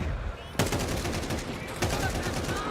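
Rifle gunfire in Counter-Strike 2 during a tournament match, with rapid game shots and two sharper loud reports over a busy background with voices.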